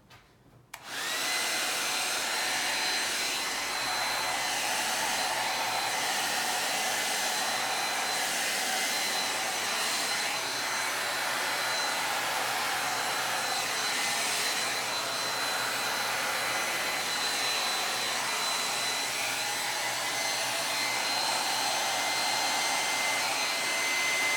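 A hair dryer blows steadily across acrylic paint during a Dutch pour, switching on with a click and then holding a loud, constant whooshing roar close by, with no talking.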